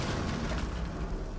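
A video game explosion detonates as a dense, loud low rumble that roars continuously through the brief moment without clear onset, heavy bass-filled boom with no talk over it.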